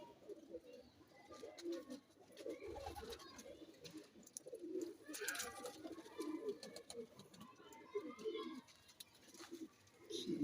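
Teddy pigeons coo in soft, repeated throaty bursts nearby, mixed with rustling and murmured voices in the background.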